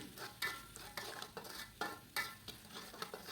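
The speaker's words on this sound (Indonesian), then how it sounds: "Nah, setelah itu baru diaduk semuanya sampai tercampur merata seperti ini." A seasoning mixture with chicken stock for grilled fish is stirred in a pan with a utensil, giving repeated scraping strokes at a regular pace, close and fairly quiet, with a light sizzling texture underneath.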